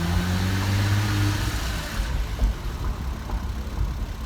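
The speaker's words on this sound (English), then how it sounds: "I just can't get enough of that intake sound of the air just rushing in" Porsche Cayman running without its engine cover, a steady low engine hum with a rushing intake whoosh, loud and close, easing into a rougher rumble in the second half with no talking.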